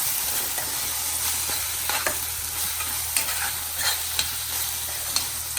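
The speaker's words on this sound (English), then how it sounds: "Saute it for a minute." Spices with chili powder and turmeric sauté in hot oil for biryani gravy, making a steady, dense sizzle with faint stirring scrapes throughout, close and unbroken, with no talk.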